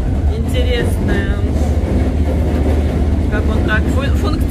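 A funicular-style tram runs on the hill of Fourvière in Lyon, a steady low rumble with faint squeals heard from on board, under a man's conversation.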